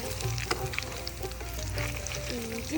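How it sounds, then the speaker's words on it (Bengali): Flattened rice (chira) frying in hot oil for homemade chanachur gives a continuous, close sizzling hiss with light stirring rustles, heard on its own. "তো এবার আমি চিরাগুলো ভেজে নেব"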